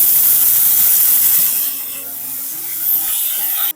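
Chana dal and garlic frying in a hot pan give a loud, steady hiss and sizzle that eases briefly in the middle, then swells again before cutting off.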